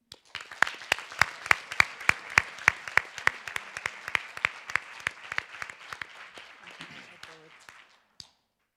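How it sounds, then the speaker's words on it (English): Audience applause at a conference session, a long run of sharp, evenly repeated claps that start crisp and loud and then thin out and fade after several seconds, with one last lone clap at the end. "let's give her a huge round of applause."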